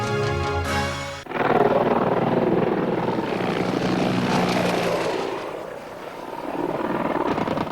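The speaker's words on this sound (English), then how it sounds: "It is still a very effective combat helicopter for many roles." An attack helicopter roars steadily overhead, rotor thumping and engine droning loud and close, briefly dipping before swelling again.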